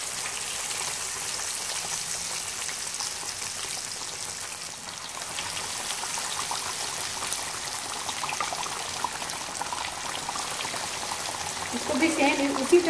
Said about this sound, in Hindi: ये मछली भी हम फ्राई कर लेंगे